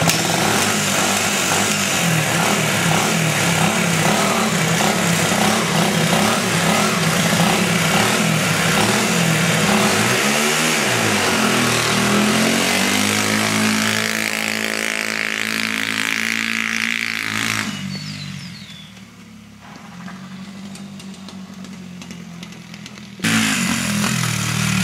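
An XR80 dirt bike's engine runs in fifth gear, a loud, continuous buzzing drone that shifts in pitch as it slows and pulls, then drops to a quieter idle near the end.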